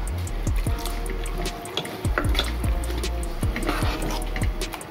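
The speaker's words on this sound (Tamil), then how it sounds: "தேங்காய் தண்ணி" Coconut water pours and splashes into batter for a traditional Tamil vivika sweet, a steady liquid trickle with several distinct drips and plops throughout, close and fairly clear, with no talking.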